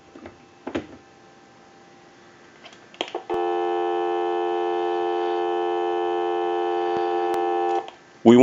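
A few clicks and handling noises, then a steady dial tone on a Western Electric 250 W wall telephone hums continuously for several seconds before clicking off.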